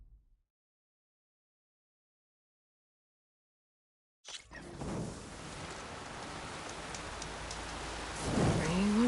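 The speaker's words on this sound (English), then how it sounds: "Rain once again." Steady rain in the open world of Horizon Forbidden West: after about four seconds of silence, a dense wash of falling rain starts abruptly and holds at an even level, swelling slightly near the end, with no talk.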